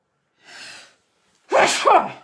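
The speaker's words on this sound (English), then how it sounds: "Oh, I'm going to sneeze." A soft breathy intake, a short pause, then a loud, sharp sneeze up close.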